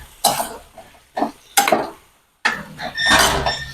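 Eggplant bharit being mixed in a pot, heard as a few separate bursts of utensil scraping and clinking against metal with short pauses between them, close and fairly loud.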